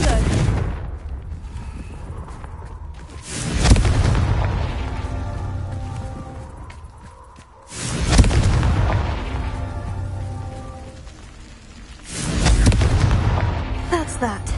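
Confringo blasting-spell explosions in the Hogwarts Legacy video game: three heavy, loud booms a few seconds apart, each one decaying slowly into a rumbling tail over game ambience.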